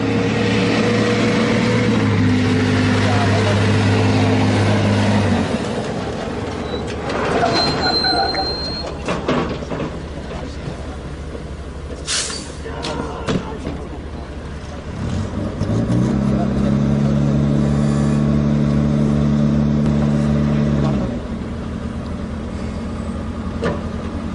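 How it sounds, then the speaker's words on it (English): A Scania truck's heavy engine rumbles steadily while towing a Bofors howitzer, with gear changes and a revving surge, mechanical clanks and squeaks over the drone, close and loud. "You will now see the Bofors gun towed by a tow truck called the Scania."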